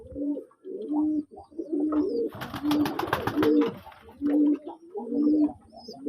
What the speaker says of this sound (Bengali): বিকালের খাবার খেয়ে কবুতরগুলি ডাকাডাকি শুরু করছে